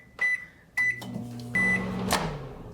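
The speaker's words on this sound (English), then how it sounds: "that's going in the microwave behind the camera" A microwave oven heating water gives several sharp keypad beeps, then a door thud and a steady humming drone as it starts running, close and alone.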